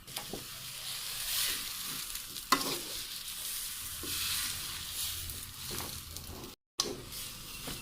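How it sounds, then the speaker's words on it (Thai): Ingredients for Northern Thai pounded young jackfruit are stir-fried in a pot until dry, with continuous close scraping, stirring and sizzling, plus a few sharper knocks of the utensil. "คั่วจนเข้ากันนะเจ้าจนแห้งเนาะ"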